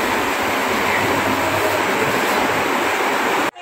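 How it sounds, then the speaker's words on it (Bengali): A train pulling out of Sealdah station on the way toward NJP, its steady broadband rumble and rolling wheel noise loud and continuous for several seconds before cutting off abruptly near the end. "পুরো পাক্কা 2:45 ট্রেন ছেড়ে দিল।"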